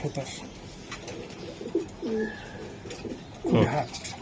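Soft cooing from a large racing pigeon at a loft runs beneath a voice, low throaty notes rising and falling through the moment, with a louder burst of activity near the end.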